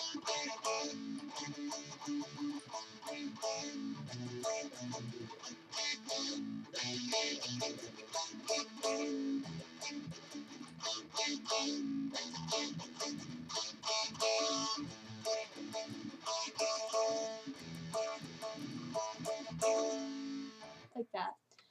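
Distorted electric guitar plays a part of a song through an effects unit, a continuous gritty riff at moderate level with strummed chord hits running for about twenty seconds.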